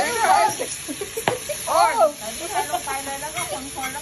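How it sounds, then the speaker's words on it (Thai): Shrimp stir-fried in a pan with garlic and pepper, a steady close sizzle with intermittent stirring scrapes and a brief sharp clink, while a voice talks quietly over the cooking. "คนแล้วก็ผัดต่อนะคน"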